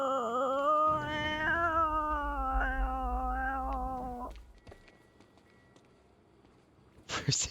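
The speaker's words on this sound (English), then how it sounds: "cat again. That damn cat." In the video game Quantum Break, a cat gives one long, wavering, drawn-out meow lasting about four seconds, followed by near silence and a short clatter at the end.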